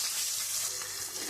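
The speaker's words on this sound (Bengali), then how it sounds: "আমি ওই মাছ ভাজার তেলের মধ্যে আলুটা একটু ভেজে নেব" Potatoes frying in the oil left over from frying fish, a steady close hiss and crackle of sizzling oil that runs without a break.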